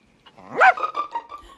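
A small dog barks in a scene from the 1988 film Elvira: Mistress of the Dark, a single sharp yelp followed by a short run of lighter, fading yaps, close and alone with no talk over it.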